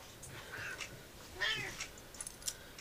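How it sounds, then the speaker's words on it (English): A cat meows softly and faintly indoors, a short rising call with small sounds around it in a quiet room. "I think our favorite kitty's here, so let me go let him in"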